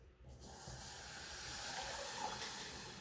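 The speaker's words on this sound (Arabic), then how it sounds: "تخلطات غادي نزيد الحليب." Milk poured into a hot butter mixture in a pan sets off a steady, close sizzling hiss that starts abruptly and holds evenly, with no voices.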